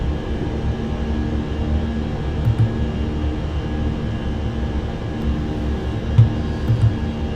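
An Airbus A320 climbs after takeoff from La Guardia in a flight simulator, its jet engines a steady, even roar and hum with a few faint clicks, continuous and moderately loud.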